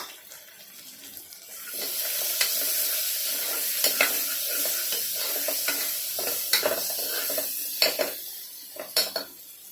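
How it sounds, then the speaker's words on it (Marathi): Chopped onions, two large ones finely cut, frying in a pan while being stirred, with a steady sizzle broken by repeated scraping knocks of the spoon against the pan, close by and moderately loud, with no talking. "कांदा आपण छान भाजून घेऊया"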